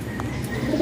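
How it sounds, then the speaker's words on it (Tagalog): Pigeons coo softly in a brief, low murmur as they come down to land, with faint background ambience and no voices. "Ayan na mga kalapatids. Bababa na oh."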